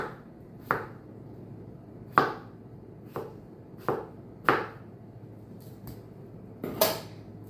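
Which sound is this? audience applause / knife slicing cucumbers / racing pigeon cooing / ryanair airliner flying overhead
knife slicing cucumbers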